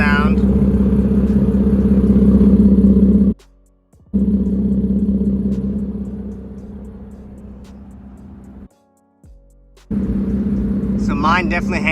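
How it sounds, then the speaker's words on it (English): A 2017 Infiniti Q60 Red Sport fitted with a Borla catback exhaust idles with a deep, steady rumble, cut off twice by short silent gaps before the idle resumes. "Here's a little idle sound."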